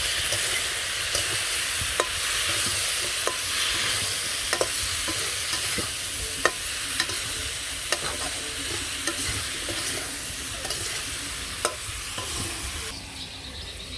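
Vegetables with green chili, salt, mixed spices, chili powder and turmeric sauté in a pan, a constant loud sizzle broken by regular scraping stirs every second or so.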